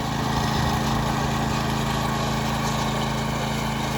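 Lawn mower running steadily over newly sprigged grass, a loud, continuous engine drone close by with no breaks.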